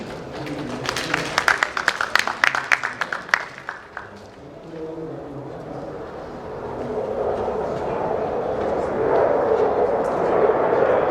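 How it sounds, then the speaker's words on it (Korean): A burst of hand claps from an audience welcomes a presenter at a Korean drone industry symposium, sharp and dense for about four seconds before fading into a steady, rising room murmur. "모두 박수로 맞아주시기 바랍니다."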